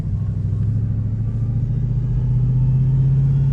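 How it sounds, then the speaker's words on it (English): An 850 wheel-horsepower Dodge Hellcat-swapped Chrysler 300 accelerating in first gear at half throttle, a deep, loud engine rumble heard from inside the cabin that climbs steadily in pitch, no talking. "but first gear. I'll go about half throttle."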